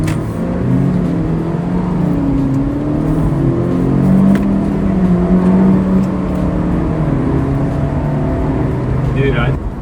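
A 2026 Honda Civic Si fitted with a PRL HV air intake pulls in 4th gear at around 35 mph, its steady engine drone loud and continuous from inside the cabin, with voices talking over it.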